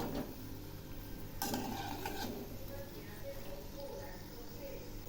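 Palm fritters (taler bora) fry in hot oil with a soft, steady sizzle, close and low, broken by a few clinks and stirring scrapes of a utensil in the pan.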